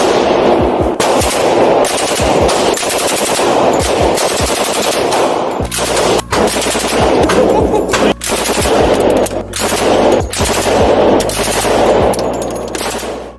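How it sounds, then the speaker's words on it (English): Bursts of fully automatic fire from a Thompson machine gun at a Texas gun range, loud and close, with rapid rattling strings of shots repeating across the whole stretch and echoing sharply between bursts. "A fully automatic Thompson machine gun."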